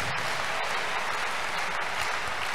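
A crusade crowd breaks into a big round of applause as a clap offering to Jesus, dense steady clapping filling the space from start to finish without pause.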